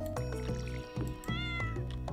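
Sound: cat meowing in Stardew Valley video game

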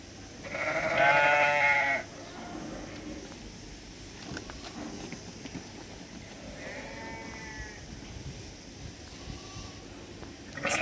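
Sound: sheep and lambs bleating

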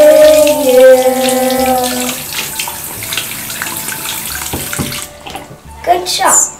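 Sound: water running from tap while washing hands

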